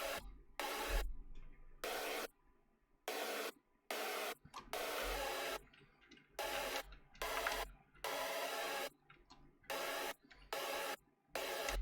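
Serum synth chord layer built from a square-ish saw wave with white noise, used in a future bass chord stack, playing repeated sustained chords in blocky rhythmic bursts with sharp cutoffs and silent gaps, loud and alone.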